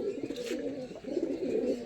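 Pigeons, a big-size kalshira pair kept at home for sale, coo steadily in low rolling phrases, close by, with no voices over them.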